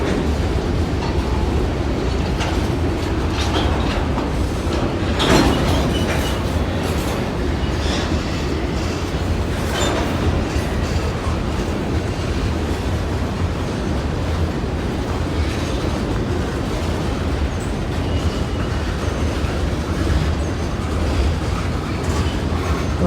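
Freight train of coal and manifest cars rolling past, a continuous loud rumble with rhythmic wheel clatter and occasional louder bursts from the cars.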